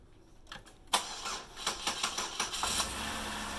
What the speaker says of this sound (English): So now we're going to turn the engine on